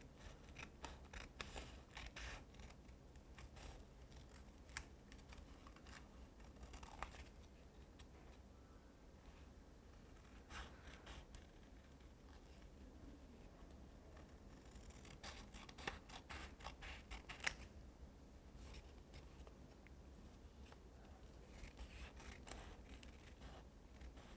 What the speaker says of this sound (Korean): 자 이제 비행기 전체 이 테이프 부분만 피해서 잘라내도록 하겠습니다